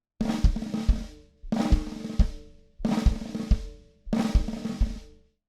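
Four buzzed snare rolls in a funk pattern, each punctuated by a deep bass drum thump on the E of 4 near its end, repeating in a steady pattern.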